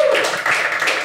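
Audience clapping at a stand-up comedy show, a brief dense burst of applause with a faint voice mixed in.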